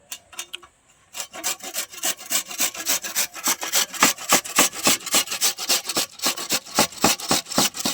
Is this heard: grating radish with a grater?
yes